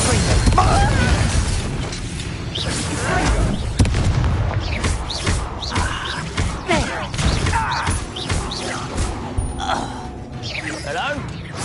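Confringo fire spell in Hogwarts Legacy, a burst of booming, crackling blasts amid combat effects, dense and loud throughout, with a voice heard over the action.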